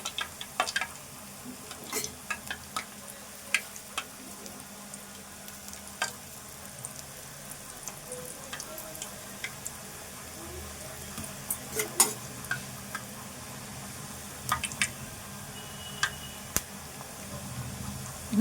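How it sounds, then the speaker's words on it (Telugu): Bottle gourd and sesame vadas fry in a generous amount of hot oil, giving a steady close sizzle with scattered sharp pops and ticks throughout, and no voices. "అందుకే కొంచెం ఎక్కువ పోసుకొని ఈ సొరకాయ గారెలు కాల్చుకోవాలి."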